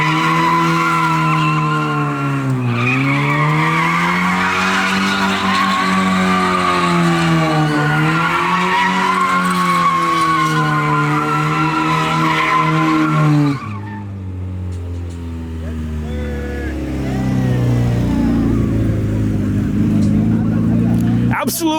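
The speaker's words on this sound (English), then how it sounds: "I do hear more donuts going on back here." Mazda Miata doing donuts at a car meet, a sustained loud tire squeal with wavering engine revs, then a shift to a lower rumbling drift, close by with voices talking over it.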